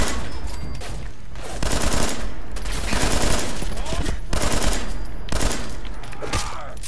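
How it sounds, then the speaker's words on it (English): Sustained minigun fire from an AI companion in Fallout 4, a dense rapid rattle of gunfire running almost continuously, loud and close, with a voice talking over parts of it. "Never give an AI a minigun."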